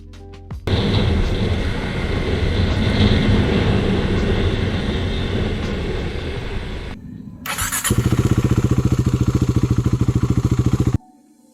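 A Husqvarna Svartpilen 401 motorcycle engine roars steadily up close, dips briefly, then surges into a louder, rapidly pulsing rev with throttle blips before cutting off abruptly.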